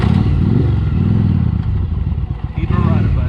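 Adventure motorcycle engine idling and rumbling on an off-road trail near a campsite, a steady low throb with clattering and scraping from the bike over rough ground, fairly loud and close throughout.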